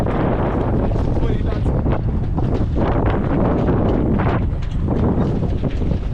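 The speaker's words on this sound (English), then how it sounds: "Okay, so you have a big gust right now, yeah?" A strong wind gust buffets the microphone in a tight Croatian marina during boat docking practice in 25-knot wind, a loud continuous roar with surging bursts, and a voice speaks over it.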